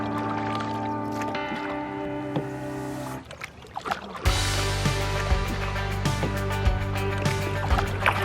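A canoe paddle works through water with soft splashes, drips and knocks against the hull, the low steady background turning fuller and louder partway through as strokes continue close by.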